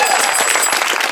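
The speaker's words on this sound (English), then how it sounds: "Everyone, please, a big round of applause for Experts Challenge." Brief burst of dense audience applause for a game-show contestant team, loud and close, steady clapping throughout with no talk over it.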